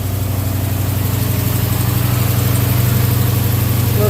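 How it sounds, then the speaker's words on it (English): A Plymouth Cuda's 392 Hemi idles loud and close with a steady, lumpy rumble, and a faint ticking from an exhaust leak sits in the pulsing drone. No one talks. "Definitely has an exhaust leak."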